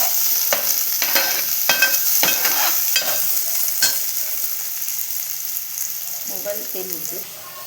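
Chopped onion hits hot oil in a pan for a Marathi-style mixed fish curry, sizzling loudly and close. Several sharp stirring scrapes come in the first half, and the frying then settles into a steady hiss.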